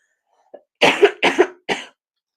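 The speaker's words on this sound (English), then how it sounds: "My eyes are just watering because my throat wants to cough." Three close, dry coughs in quick succession after a faint throat sound, loud and near against silence.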